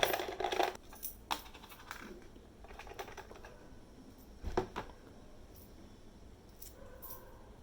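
Coins tumble out of the bottom of a puppy house money bank, with a bright metallic jingle at the start, then scattered clinks and a rattle midway, all close and fairly quiet.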